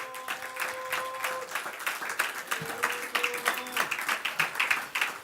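A church congregation claps for the Lord during a sermon, a sustained ripple of many hands at moderate level with faint sustained tones and voices mixed in beneath.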